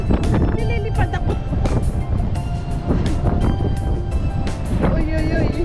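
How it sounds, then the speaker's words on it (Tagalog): Strong wind buffets the microphone on the open upper sun deck of a ferry crossing between Sweden and Denmark, a steady roaring rush with gusting bursts, while people talk loudly over it. "Lakas ang hangin."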